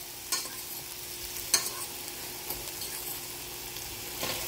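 Noodles stir-frying in olive oil, a soft steady sizzle with a few faint scraping stirs, quiet and close, with no voices.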